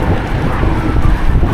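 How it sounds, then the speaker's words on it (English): Strong, cold wind buffets the microphone on a bike ride, a loud continuous roaring rumble with gusty swells throughout. "And it was really windy."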